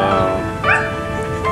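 A young dog lets out one short, high yelping bark midway through, fairly close, over a faint steady background.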